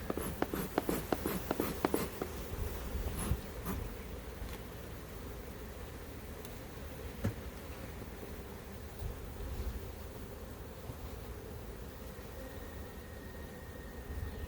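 Honeybees buzz in a soft, steady drone around an open hive during a colony split, with a few sharp clicks and taps early on and faint background hiss.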